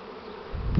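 Honeybees buzz in a steady drone during a swarm on a hive, close and continuous, growing louder and rougher at the end.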